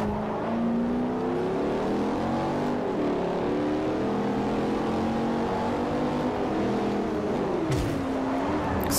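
Race car engines roar continuously in Forza Motorsport 4 on the Bernese Alps track, with shifting pitch as the cars accelerate and brake, and several cars racing close together.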